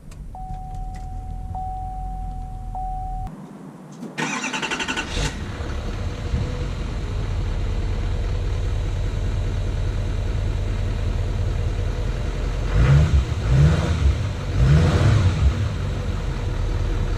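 Chevy Silverado 3500 LTZ Duramax diesel pickup starting up with a sudden roar after a quiet tone, then settling into a steady rumbling idle, with a few louder revs building near the end.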